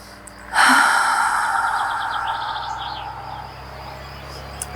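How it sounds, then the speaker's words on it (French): A long deep breath during a prenatal yoga session, one slow audible inhale swelling then tapering over a few seconds, with faint chirping insects in the background. "Je prends une dernière respiration."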